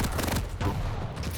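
Rocket fire in a competitive first-person shooter duel: a rapid string of loud, punchy blasts and explosions packed into a second and a half, dense game combat audio with no clear talk.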